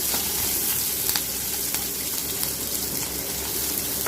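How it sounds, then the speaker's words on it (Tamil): A big onion and chilies sautéing in oil, giving a dense, continuous hissing sizzle that stays loud and close throughout, broken only by faint clicks of stirring. "ஒரு பெரிய வெங்காயம் தாளி, இது எல்லாத்தையும் போட்டு நல்லா வதக்கிடுங்க."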